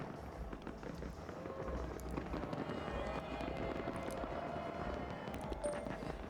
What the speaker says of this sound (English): now the Nottingham fireworks have started